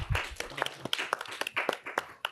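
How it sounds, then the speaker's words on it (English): Applause at a town select board meeting, a brief burst of scattered hand claps at moderate distance, uneven and thinning toward the end, with no voices over it. "We don't get applause very often in our meetings"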